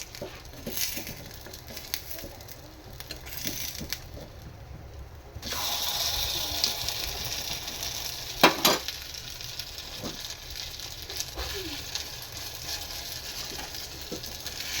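A jowar flour uttapam fries in a pan over a low flame, giving a soft, steady sizzle that grows louder and brighter partway through, with no talking.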